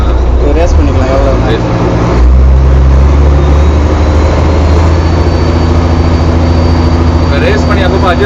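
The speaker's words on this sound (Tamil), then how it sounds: "இதுதான் ஆக்சிலேட்டர். இது ரேஸ் பண்ணிக்கலாம் எவ்வளோ." A boat's engine drones loud and steady, deepening as the throttle is opened, with someone talking over the constant roar up close.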